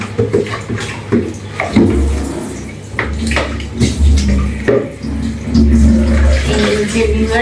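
Tap water runs while a dish is rinsed and handled at a kitchen sink, a loud uneven splashing gush with clinks and shifting flow, no speech.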